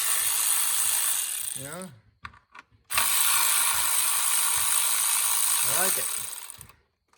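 A 3/8-inch ratchet clicks through two bursts of rapid pawl ratcheting while spark plugs are removed from a 2015 Jeep Grand Cherokee 3.6, loud and close, with a short pause between them and a brief spoken remark near the end.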